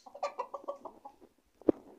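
A rooster clucks in a quick series of short notes, then gives one sharper, louder squawk after a brief pause.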